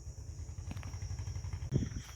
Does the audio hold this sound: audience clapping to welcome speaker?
no